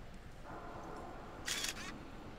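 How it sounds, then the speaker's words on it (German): A camera shutter clicks once in the video game Beyond Good and Evil, a short crisp snap over a quiet ambient background. "Dann kann ich nur ein Foto machen."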